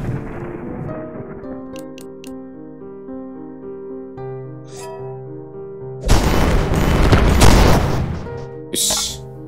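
Explosions in the Ocean's Heart video game erupt as a loud, noisy burst lasting about two seconds, with a shorter blast just after. Both follow a stretch of tonal game music.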